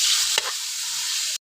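Chicken gizzards sautéing in a pan with ginger, garlic and onion give a loud, steady hissing sizzle with one brief stirring scrape, close by, cutting off abruptly at the end.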